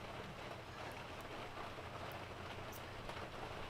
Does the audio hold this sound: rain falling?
yes